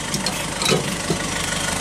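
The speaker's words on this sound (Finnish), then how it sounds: "Nyt siellä on taas täydet tehot tuolla moottorissa." A boat engine drones steadily at full power, a dense close rumble that barely changes apart from a brief swell midway. No voices are heard.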